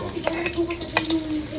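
Garlic drops into hot frying oil in a pan and starts a brisk crackling sizzle with a few sharp pops, close and moderately loud, with no voices.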